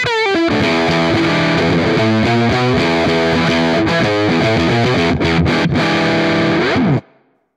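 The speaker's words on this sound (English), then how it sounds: "9 new guitar overdrives based on classic pedals. From subtle boosts to aggressive distortion" A loud electric guitar played through an overdrive distortion pedal strums thick, gritty sustained chords, then the sound cuts off abruptly near the end.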